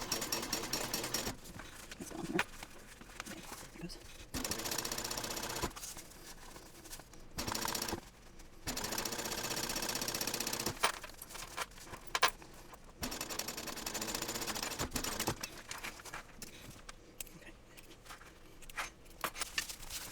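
A sewing machine stitching a seam on an onigiri backpack, running in several bursts of rapid mechanical chatter with brief pauses between runs, close and fairly quiet, no talking.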